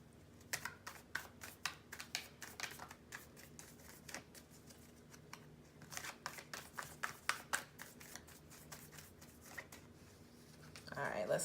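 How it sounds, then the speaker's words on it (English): A deck of tarot cards is shuffled by hand in quick riffled bursts, crisp close clicks and flutters repeating across the stretch, with a voice talking faintly in between. "let's cut the deck for you."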